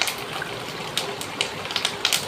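Tamarind extract being poured for tamarind rice, a soft steady trickle of liquid with faint splashy pulses, fairly quiet and close, with no voices over it.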